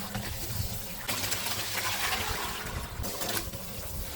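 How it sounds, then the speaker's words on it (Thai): Pork skin pieces being rinsed in plain water make a continuous splashing, gushing flow with brief surges, close and fairly loud. "หลังจากนั้นเราก็ล้างน้ำเปล่าทิ้งสัก 2-3 น้ำค่ะ"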